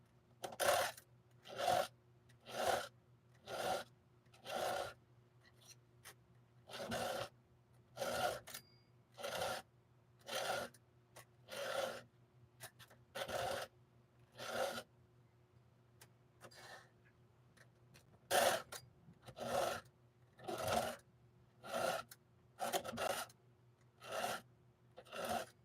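Repeated rasping strokes of a file sharpening a chainsaw chain, about twenty steady back-and-forth passes in a regular rhythm, close and clear over a low background hum, with no talking.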